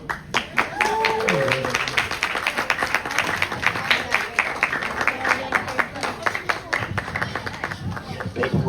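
Visitors at an alligator show in an Everglades park clap together, a rapid, steady patter of many hands throughout, with a voice talking briefly over it near the start.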